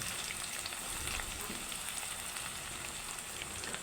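Onions fry in hot oil until brown for a bhuna khichuri, a steady, dense sizzle heard up close throughout with no voices.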